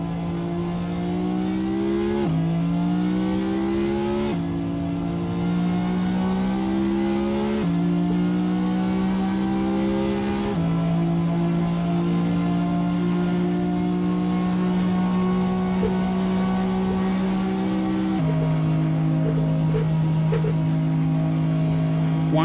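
A Ferrari engine in the Assetto Corsa racing game, revving hard and loud through a series of gear changes, the pitch climbing then dropping at each shift in a continuous, close engine drone.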